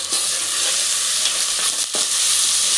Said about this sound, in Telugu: ఈ అల్లం వెల్లిగడ్డ పేస్ట్ పసుపు వాసన వేయ వరకు కొంచెం వేగాలి